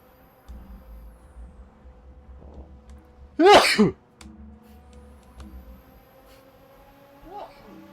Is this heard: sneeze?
yes